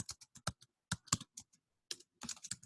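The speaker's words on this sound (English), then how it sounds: "I'm literally just typing in people struggle to make ends meet" Quick bursts of keystrokes on a computer keyboard, close and crisp, come in irregular clusters with short pauses between them and no voice over the top.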